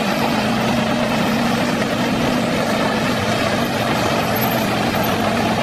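A toy truck's engine sound plays as a steady, loud, droning rumble with a buzzing whine, continuous and unbroken for the whole stretch, with no talk over it.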